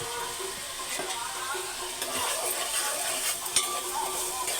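Tomato pieces and onions softening with salt in a pan, a soft steady sizzle and bubbling with occasional faint stirring clicks, a little louder in the second half.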